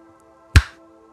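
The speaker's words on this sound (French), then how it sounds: "Un simple claquement de doigts." A single finger snap, sharp and close, stands alone against a faint steady hum.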